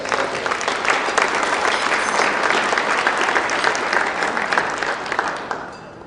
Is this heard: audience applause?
yes